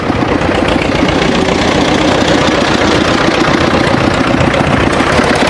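The diesel engine of a second-hand tractor runs close by, a loud, steady chugging rumble with a rapid rhythmic knock throughout.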